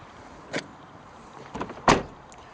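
Boot of a Renault Megane 2-litre GT Line being opened, a short mechanical click and thunk, then a louder latch release and lid movement close by, with no talking.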